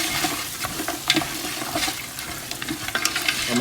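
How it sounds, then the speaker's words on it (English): Beef pulao sautéing in a pan with salt and red chili gives a steady, fairly quiet sizzle with light scraping stir sounds and a few soft clinks, and no voices over it. "And just saute it all in."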